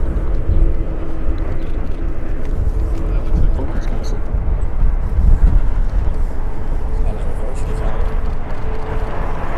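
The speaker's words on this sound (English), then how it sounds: "We have a nice little executive jet taxiing in front of us here." A small executive jet taxis at LAX airport, its engine a steady broadband roar that holds loud and unbroken throughout, with people talking over it.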